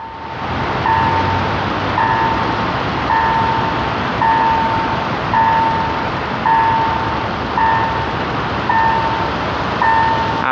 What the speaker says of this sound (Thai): ตอนนี้ขบวนรถนะ น่าจะใกล้ผ่านจุดตัดแล้วนะครับผม